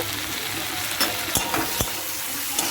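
Fried onions with dried fenugreek leaves (kasuri methi) are stirred in a pan for chicken do pyaza, giving a steady close sizzle with a few sharp scraping clinks of the spoon against the metal.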